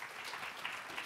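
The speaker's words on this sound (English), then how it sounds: "Please give her our applause" Faint, steady clapping from a seminar audience applauding a panelist at a fintech session, distant and without talk.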